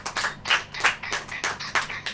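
A Hindi-speaking church congregation claps during a sermon, a handful of loose, uneven clap bursts roughly in rhythm, moderately close with no talk over them.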